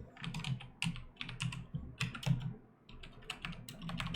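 Typing code on a computer keyboard during a computer science class livestream: quiet, close clusters of key clicks in irregular bursts with brief pauses, steady throughout.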